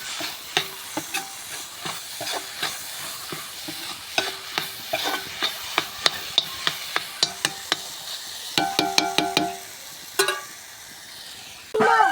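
A spoon stirs a banana and grated coconut filling in a pan, with rhythmic scrapes and knocks over a faint sizzle and a quick burst of rattling taps near the end.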